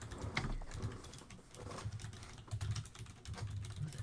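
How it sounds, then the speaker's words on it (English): Very loud mechanical keyboard clatters in quick, continuous bursts, faint and close against a low hum, with no talking. "I have a very loud mechanical keyboard"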